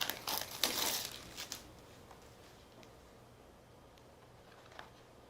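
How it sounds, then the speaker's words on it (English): Plastic wrap peeled off a 3D Blu-ray box set, with a burst of close crinkling and rustling at the start that trails off into quiet handling noises. "Let's remove here the plastic."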